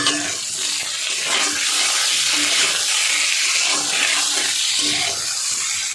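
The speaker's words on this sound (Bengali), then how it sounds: "দিয়ে দেবো। দিয়ে এবার ভেজে নেব।" Halved tomatoes and four green chillies fry in hot oil in a wok, a loud continuous sizzling hiss that stays steady and close throughout.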